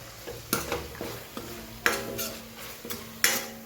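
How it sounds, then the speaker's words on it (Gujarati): Dhokli is mashed in a pan with spoon or spatula, a few sharp scraping knocks at irregular intervals over a gentle sizzle, close and unaccompanied by talk. "જે આપણે ઢોકળી બનાવી હતી એને થોડી આપણે આવી રીતે મેશ કરી દઈશું।"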